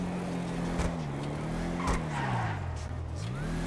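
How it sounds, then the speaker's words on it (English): A McLaren 675LT supercar in GTA 5 drives with a steady, throaty engine note that rises and falls through gear changes, with tire squeal and occasional exhaust crackles. "the sound from the engine is pretty much relaxation to the ears"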